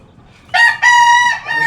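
Rooster crowing loudly and close in a chicken yard, two long harmonic calls in quick succession followed by the start of another, with no talking.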